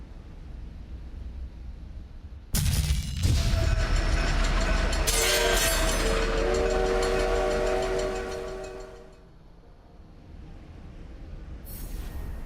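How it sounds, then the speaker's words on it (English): A train in The Last Hero of Nostalgaia video game roars in suddenly and loudly, its rumbling wheels joined by a sustained horn-like whistle, then fades before a faint return of noise. "One more train"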